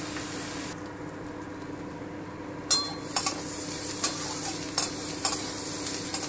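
Onion frying in a pan, a steady broadband sizzle throughout with several sharp clinks and scrapes of stirring at irregular intervals in the second half.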